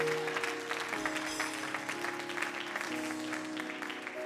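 A church congregation applauds and cheers in a sustained wave of clapping over steady tonal background music, filling the room without pause.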